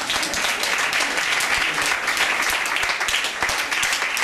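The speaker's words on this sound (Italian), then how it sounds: "un applauso ancora per l'Istituto Tecnico Industriale Giulio Riva" A hall audience applauds steadily at a Rotary Club of Saronno school scholarship ceremony, honouring a technical industrial institute. The dense, even clapping is loud and continuous throughout, with no voices rising above it.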